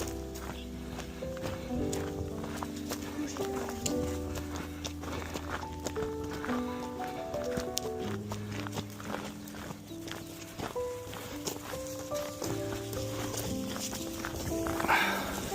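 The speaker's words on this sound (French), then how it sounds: "Les chevaux!" Hooves clip-clop steadily as horses walk outdoors, a close, irregular run of knocks layered with low tonal music and scattered faint sounds.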